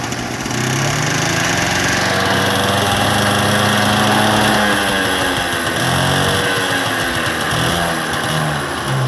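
The small engine of an Italian moped runs close by, a loud buzzing drone whose pitch rises and falls as the throttle changes, steady and continuous with no talk.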